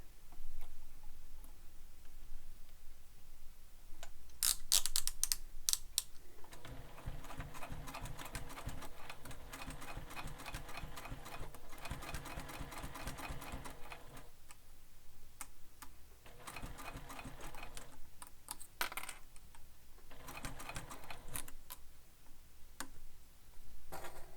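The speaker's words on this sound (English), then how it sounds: "So now what we're going to do is top stitch through all the layers." A sewing machine top-stitches through all the layers of a fabric sling pack, running in rapid ticking bursts of several seconds each with short pauses between, heard close and without talk.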